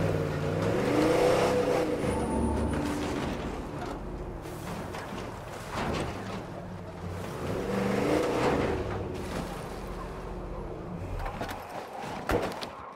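A truck engine drives and revs in the zombie survival video game State of Decay 2, a loud whirring motor surging and easing in waves throughout.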